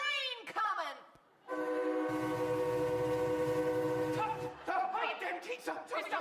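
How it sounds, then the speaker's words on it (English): A train passing close by, a long steady horn blast with heavy rumbling wheels underneath, loud for several seconds, framed by people talking before and after. "there's a train coming"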